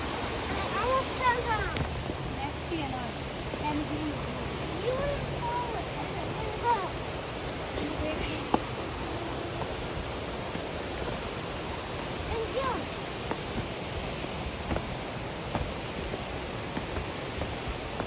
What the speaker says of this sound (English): So here is the waterfall.